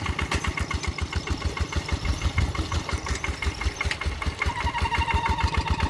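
A water pump engine running in a field at rice-planting time, chugging in a fast steady rhythmic thump, close and continuous.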